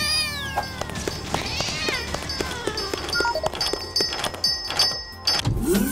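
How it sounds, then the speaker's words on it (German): Cat meows ring out repeatedly in a video game shop scene, several close, drawn-out calls mixed with game effects and clatter, with no talking over them. "Und für dich hole ich eine Katze."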